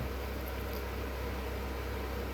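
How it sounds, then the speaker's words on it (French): A steady, even whoosh of an electric fan runs quietly and unbroken throughout, with no other sounds standing out. "Je suis désolé de ce bruit de ventilateur"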